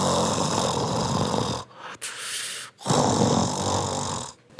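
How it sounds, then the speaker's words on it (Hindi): A giant tree snoring in a Hindi cartoon, loud rasping snores in long drawn-out breaths, each broken by short silent pauses, close and alone. "वो तो ऐसे खर्राटे ले रहा था जैसे घोड़े बेचकर सोया हो।"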